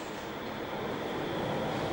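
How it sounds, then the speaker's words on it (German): A Cologne Stadtbahn light rail train labours up a steep ramp from an underground section near Wiener Platz in Mülheim, giving a steady, low rumbling drone at moderate distance with no voices. "Über eine steile Rampe mühen sich die Züge an die Oberfläche."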